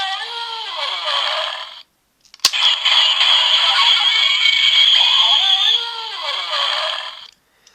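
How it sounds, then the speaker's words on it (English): Bakuryu Dino Brace toy playing an electronic transformation sound effect: two loud bursts of bright, buzzy synthesized tones separated by a short pause and a sharp click, ending abruptly. "You just place on this, and then do the transformation sound."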